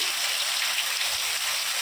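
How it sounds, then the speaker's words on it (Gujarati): Heavy rain pours steadily in a rural Gujarati pasture during buffalo grazing, a dense, continuous hiss close by with no talk. "ફૂલ વરસાદ આવી ગયો અત્યારે"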